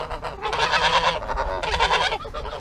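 Geese honking loudly close by in a garden during hedge trimming, two bursts of harsh, overlapping honks separated by a brief pause, with no talking.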